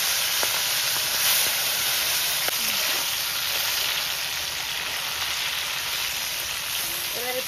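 Fish pieces rubbed with salt and turmeric fry in hot oil in a wok, giving a steady, loud sizzle that holds for the whole stretch, with a few faint utensil clicks and no talk.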